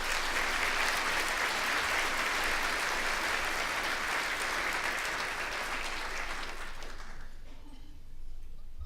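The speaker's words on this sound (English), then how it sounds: "And they deserve a round of applause." An audience at an awards luncheon applauds, a dense, even wash of clapping from a large crowd that holds steady for about seven seconds before fading out and leaving quiet room tone.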